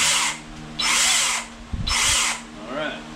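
Kobalt 24-volt 8-inch cordless pole saw running in short bursts, three loud whirring runs separated by pauses, with faint background sound between them.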